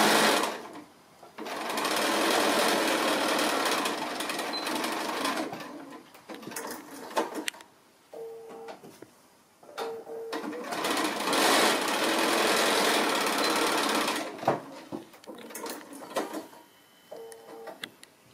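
A sewing machine stitches the centre seam of a small fabric sail for a sailboat pin cushion, running in long, loud, steady bursts with brief pauses between them and a few light clicks in the gaps.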